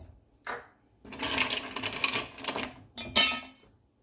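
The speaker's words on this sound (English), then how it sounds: "So I'm going to go ahead now and add some ice." Ice cubes clatter and clink into a container of creamy lemonade in a few quick bursts, close and fairly quiet, with short pauses between.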